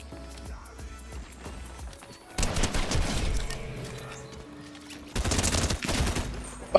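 SMG fire in the video game Fortnite comes in two dense, rapid bursts over a low background of game sounds.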